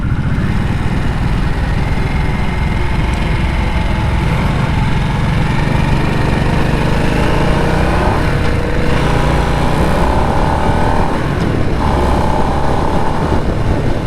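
A 2024 Harley-Davidson Nightster Special RH975S runs under way, its engine droning loud and close with a steady buzzing rumble and a few pitch shifts as it changes speed. No speech.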